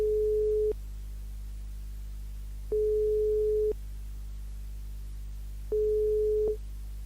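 Steady telephone line tone on a radio call-in show, sounding in three evenly spaced beeps of about a second each over a low hum, with no talk.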